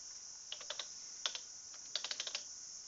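Quick bursts of keystrokes on a computer keyboard while entering data into a spreadsheet, soft close clicks in small clusters separated by short pauses.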